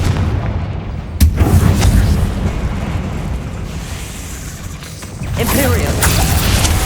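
In Hogwarts Legacy, a Confringo explosive spell erupts with a sharp booming blast, followed by rumbling magical fire and crackle, and another surge of effects near the end, with no speech heard.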